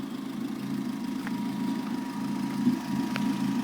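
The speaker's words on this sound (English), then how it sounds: "I got my Rex here just running a little bit because I haven't ran her in a while" Subaru WRX engine idling steadily, a low even rumble with a faint steady whine above it and a couple of small ticks, moderately close with no talking.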